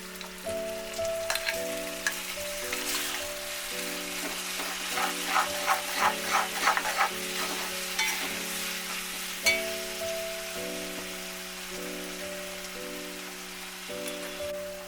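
Ground tomato paste sizzles and crackles in a hot pan while cooking brinjal gravy, the spattering growing busier for a few seconds, while steady background music plays throughout.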